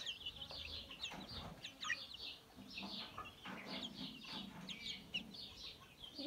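Mixed-breed chicks cheep in a rapid, scattered series of thin, high peeps, with a few lower clucks from a nearby rooster mixed in. No one speaks.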